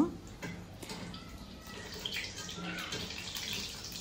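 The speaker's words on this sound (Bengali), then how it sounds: "তো আমি তেলের মধ্যে দিয়ে দিয়েছি, দিয়ে এবার আমি এগুলোকে ভেজে নিব।" Spinach snacks fry in hot oil over a medium flame, a steady, moderate bubbling hiss with small crackles that holds fairly evenly.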